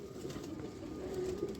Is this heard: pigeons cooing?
yes